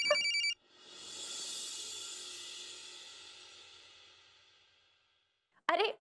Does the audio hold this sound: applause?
no